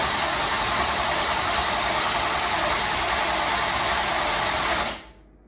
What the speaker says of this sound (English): she cranks, but does not start